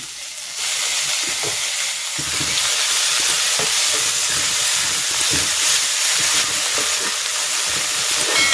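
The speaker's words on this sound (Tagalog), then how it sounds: "Pag ganyang gisang-gisa na yung bagoong, mabango na." Shrimp paste (bagoong alamang) sizzles steadily in a hot pan while being sautéed for Bicol-style pancit bato, a continuous loud frying hiss with occasional stirring scrapes.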